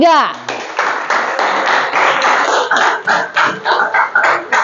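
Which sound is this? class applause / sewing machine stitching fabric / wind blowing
class applause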